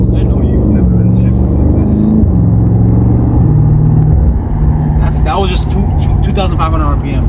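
A BMW M5 Competition engine rumbles loudly and steadily, its pitch stepping up and dropping across gear shifts, with people talking excitedly over it throughout.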